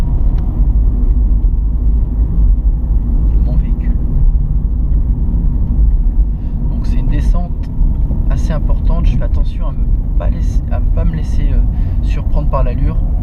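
Driving-school car pulling away and accelerating on a road near Gex, France, a steady close engine and road rumble running throughout while a person talks over it.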